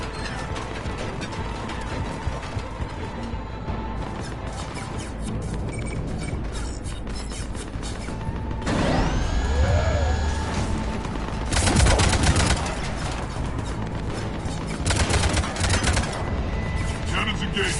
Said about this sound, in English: Cannons still need to be manually armed.